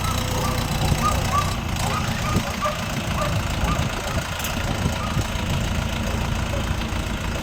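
An Orion RF404 tractor engine idles at a steady, continuous drone with a faint knocking rhythm throughout, fairly close and even in loudness.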